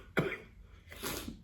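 A person with a cold gives two coughs, a sharp close one followed by a softer, breathier one about a second later, in a quiet room.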